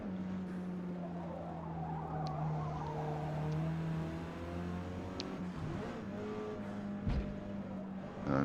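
A Mitsubishi race car in Forza Motorsport, running C class qualifying at Silverstone, with a sustained engine drone that rises and falls through revs, tyre squeal and skidding mixed in, and a short bump near the end.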